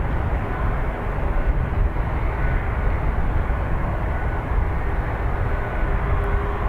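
A jet airliner rolls for takeoff on runway 10R at Dublin Airport, a steady, heavy engine roar with deep rumble, heard from a distance and holding constant throughout.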